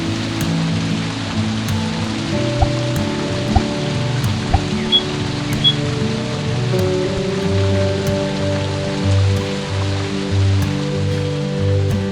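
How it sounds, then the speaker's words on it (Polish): Quiet rain falls steadily over rice fields, a soft continuous patter with scattered drips and faint tonal background hum throughout, and no voices. "z szumem wiatru, wśród pól ryżowych i cichym deszczem, który je nawadnia"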